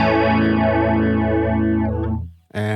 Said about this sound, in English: let's listen to the MXR Micro Flanger